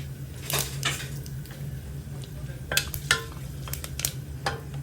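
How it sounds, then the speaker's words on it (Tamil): Fennel seeds fry in hot oil in a pressure cooker with a soft continuous sizzle, broken by sharp metallic clinks and scraping of a spoon against the pot. "அந்த சோம்பு நல்லா பொரியணும்."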